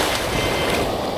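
A metal detector sounds off from salt water with no metal target beneath it, giving a steady, continuous electronic tone over broadband hiss for about a second, with no voices.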